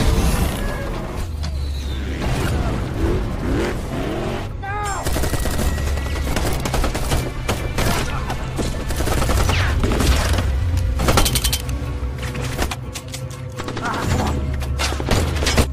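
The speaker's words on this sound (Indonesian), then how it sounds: "Baku tembak pun tak terelakkan." Film gunfight between an outnumbered group and extremists, with dense bursts of gunfire and scattered shots over a tense soundtrack and rumbling background, sustained throughout.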